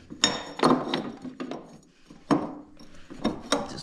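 A spacer and bottom gear slide onto the belt drive of a budget sled: a handful of close metallic clinks and clunks in quick bursts, with short gaps between the knocks of the parts settling into place.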